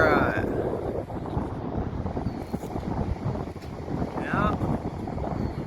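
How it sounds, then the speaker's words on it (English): Wind gusting over a Pacific Ocean beach, a loud broadband roar buffeting the microphone throughout, with a person talking under it. "Definitely plenty of wind out here."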